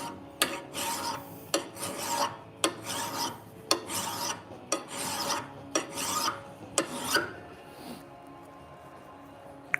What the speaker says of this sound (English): Why am I wasting time sharpening my Pulaski?